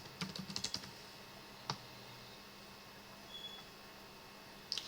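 Keystrokes on a computer keyboard, a quick cluster of light clicks at the start, a lone tap midway and a few more at the end, faint against a quiet room hum.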